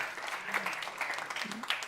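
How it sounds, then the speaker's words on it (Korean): A short burst of clapping from a church youth group, steady and moderately loud, with voices mixed in. "우리 위로의 박수를 쳐줍시다."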